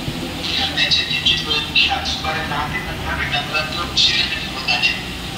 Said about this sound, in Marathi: प्लॅटफॉर्म क्रमांक 1 पर आई हुई लोकल 10:17 की कल्याण जाने वाली ही लोकल है